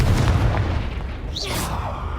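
Confringo spell from the game Hogwarts Legacy bursts as a single booming blast over low rumbling, followed by a brief whooshing streak, loud and close with no speech.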